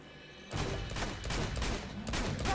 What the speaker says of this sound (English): start shooting at him